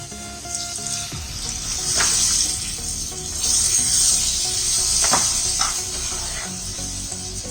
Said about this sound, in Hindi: मैं यहाँ पर पानी और शुगर डाल रही हूँ।